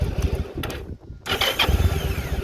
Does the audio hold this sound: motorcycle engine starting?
yes